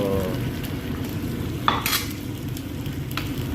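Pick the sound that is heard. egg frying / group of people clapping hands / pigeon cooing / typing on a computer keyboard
egg frying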